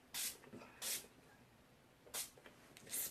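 Four short, crisp hisses of a spray bottle misting oil-free face mist, spaced unevenly and close by, with quiet pauses between them.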